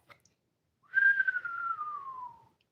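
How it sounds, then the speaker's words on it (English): A single person whistles one long descending tone after seeing a reflective sharpened edge, clear and close, starting high and gliding gradually lower for about a second and a half. "I like to make that whistle sound when I see a nice reflective edge."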